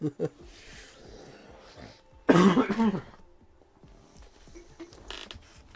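A single harsh cough bursts out close by in the middle, with faint murmuring and rustling before and after it.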